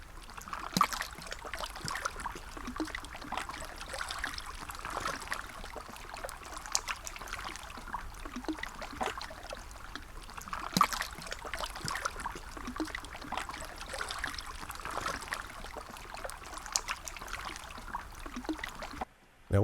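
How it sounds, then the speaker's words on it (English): Water flowing and churning in Cedar Creek, captured close in mono with a directional shotgun microphone, a continuous soft trickling with small bubbling pops and gurgles and no voices. "a very directional shotgun microphone recording some water and the cavitation of water up at Cedar Creek"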